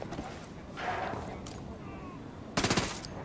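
Ghost Recon: Wildlands gunfire, a quick rapid burst of four or five shots near the end, preceded by quieter game ambience.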